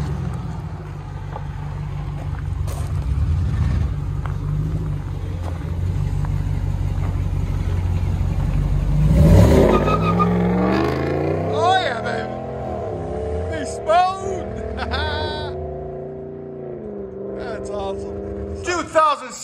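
A Ram 1500 with a 5.7-liter Hemi and Flowmaster Outlaw exhaust, resonators on, idles with a deep rumble, then revs sharply with rising and falling engine sweeps in repeated blips, under some talk.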